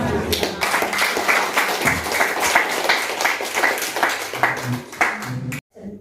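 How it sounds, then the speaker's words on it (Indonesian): Crowd applause at a school gathering in a border village, steady dense clapping sustained for several seconds, loud and close, ending abruptly with a brief pause before a little more. "Tepuk tangan, ini luar biasa."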